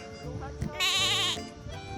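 A goat at a goat farm in Korea lets out one loud, wavering bleat close by, with softer farm sounds and faint voices around it.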